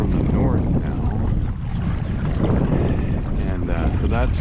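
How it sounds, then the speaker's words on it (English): Steady wind rushes and buffets across open water around a kayak, a continuous loud roar of gusts hitting the microphone with faint water movement beneath. "The wind shifted directions last night, so it's actually coming in from the north now."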